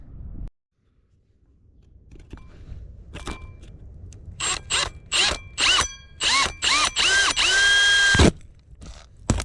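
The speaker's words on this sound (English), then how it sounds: "So we just take that hole saw, drill into that" A power drill fitted with a hole saw starts and stops against a 4-inch tile in a farm workshop, giving a series of short, loud, close whirring bursts that grow more frequent and end in one longer run.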